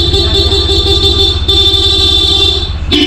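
A loud, sustained Bosch electric horn on a Honda ADV 160 motorcycle blares steadily and close, briefly cutting out before sounding again, over a low engine hum.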